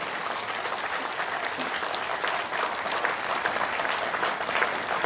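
Continuous applause from a large crowd at a veterans' rally in Meerut, a dense, even wash of many hands clapping at a distance, steady throughout.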